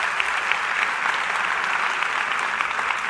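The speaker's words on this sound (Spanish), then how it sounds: "Vamos, si va a aplaudir, hágalo con ganas," A church congregation applauds steadily through a service, a dense even patter of many hands that stays at one level throughout with no voices rising above it.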